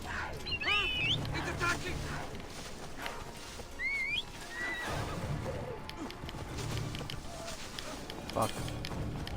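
A horse in the video game Assassin's Creed Odyssey whinnies several times, shrill neighs near and clear over clip-clopping hooves and outdoor ambience, with a person talking in between.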